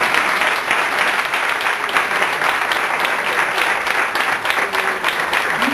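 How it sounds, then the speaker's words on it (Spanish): Conference audience applauding, dense steady clapping from a full room that holds at an even level for several seconds without letting up. "iba a pedir que nos diéramos nosotros un aplauso"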